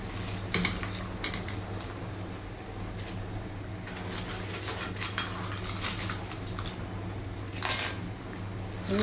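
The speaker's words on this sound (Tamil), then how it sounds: "என்னடா அங்கே ஜல்லிக்கல் பொறுக்கிற சத்தம்? ஜல்லிக்கல் இல்லைம்மா, அது நண்டு." Washed crabs clatter and rattle in a cooking pot with a gravel-like crunch, scattered scrapes and knocks over a low steady hum, fairly quiet.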